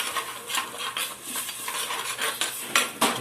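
A spoon scrapes and knocks around a pot while chicken curry ingredients are mixed over low heat, making rhythmic, close metallic stirring clinks over a faint sizzle.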